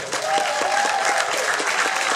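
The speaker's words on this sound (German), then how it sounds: "Auf euch einen Applaus bitte." Steady applause from a crowd at the Munich CSD Pride finale, 2016, dense clapping that fills the whole moment without pause.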